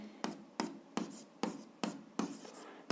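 Pen strokes on paper while working through a 7th-grade algebra exercise, a quiet close scratch repeating in about seven short regular bursts, each a quick rasp fading out, with no voices.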